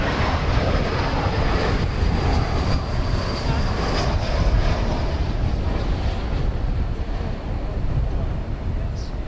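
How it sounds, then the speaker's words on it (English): An American Airlines Airbus A321 arriving at DFW Airport at night from San Diego, a steady loud broadband engine roar with a faint high whine, sustained and even throughout. "Meanwhile, we've got American 2456. Easy enough flight to remember, coming in from San Diego in Airbus A321."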